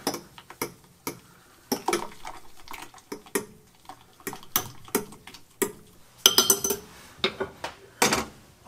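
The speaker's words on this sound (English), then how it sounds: "Give it a stir." A spoon stirs fresh citrus aloe vera juice, sharp clinks against the glass in an uneven rhythm of a dozen or so taps, close and clear with no talk over it.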